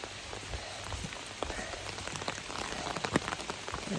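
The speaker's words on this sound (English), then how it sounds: "It's raining." Steady light rain patters on a hiker's umbrella on the Appalachian Trail in New Hampshire, a dense close hiss of drops with scattered louder taps, no talking.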